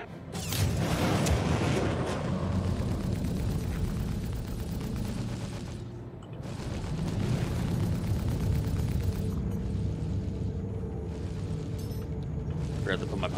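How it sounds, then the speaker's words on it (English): Missile launches and explosions from the Star Citizen space combat game, heard as continuous loud rumbling booms with a sharp dip around six seconds before the roar resumes under faint speech. "Launch some 2 missiles at him."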